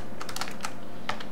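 Quick bursts of typing on a computer keyboard, several light key clicks in uneven clusters, close and clear with no talk.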